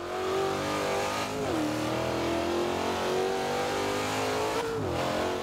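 A 2015 Corvette Z06 in the racing game Forza Horizon 2 accelerates hard, its loud, close engine note climbing steadily and dropping at two clean gear shifts, with no talking.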